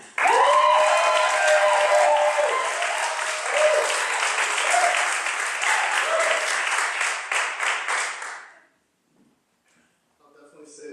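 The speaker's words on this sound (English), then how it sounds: "Give a huge round of applause for Ahmed." Enthusiastic audience applause at a poetry event fills the first eight seconds, loud and sustained with cheering voices mixed in, then cuts off abruptly to near silence with a faint murmur at the end.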